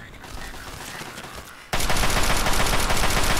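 Rapid automatic gunfire in the Fallout 3 video game bursts in abruptly after a quieter stretch of ambient game sound, then continues as dense, loud, sustained shooting.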